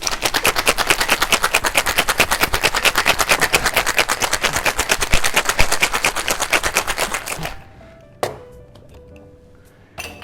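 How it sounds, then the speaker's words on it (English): Ice rattles hard inside a cocktail shaker in a fast, steady rhythm for several seconds, then stops, followed by a couple of faint clinks. "Add some ice and give it a really good shake."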